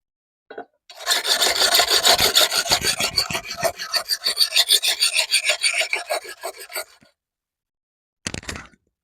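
Rhythmic rasping strokes of a knife blade's heel drawn from inside to outside across a large whetstone, a quick run of repeated scrapes, then silence and a brief final pass.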